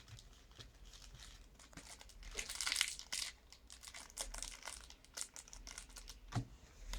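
Panini FIFA World Cup Brazil 2014 sticker packet being torn open, a close, continuous crinkling and ripping of foil wrapper with a sharper tear burst midway, no talking.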